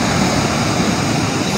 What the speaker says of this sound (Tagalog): Ang lalakas ng alon.